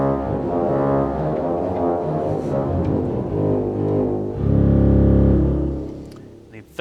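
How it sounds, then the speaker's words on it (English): A 16-foot trombone reed stop on a pipe organ with more than 3,000 pipes in a 100-year-old church, sounding as a loud, sustained low reedy chord progression that swells and shifts, with a heavy bass surge near the end before it cuts off. "The 16-foot sounds like this."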